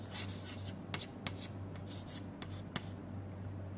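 Marker or chalk writing on a board during a Verilog lecture: faint scratchy strokes and taps in short bursts over a low steady hum.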